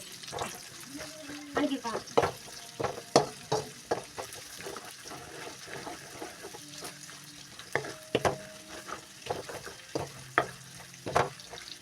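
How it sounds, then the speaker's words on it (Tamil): Sliced onion stir-fries in a pan for egg noodles, with repeated scraping strokes of a spatula over a soft sizzle, the scrapes coming in irregular bursts at moderate loudness. "நல்லா வெங்காயம் வந்து வதக்கிக்கோங்க"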